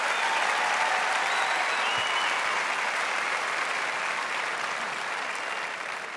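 A large audience at the 2015 Schools Spectacular claps for the aerialists, a dense, sustained wash of loud applause that slowly tapers near the end.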